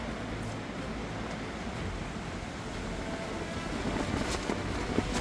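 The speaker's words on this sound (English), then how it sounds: "You can hear the wind whistling through my tent and stuff." Strong wind roars and buffets steadily against fabric, a dense rushing noise that swells slightly toward the end.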